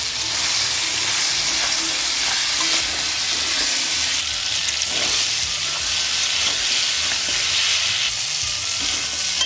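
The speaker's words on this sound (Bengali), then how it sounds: "কাঁকড়াগুলো ভাজা হয়ে গেছে এবার এগুলো আমি নামিয়ে নিচ্ছি" Sea crabs fry with turmeric and salt in a wok, making a loud, steady, hissing sizzle that runs unbroken throughout, with faint stirring and no talking.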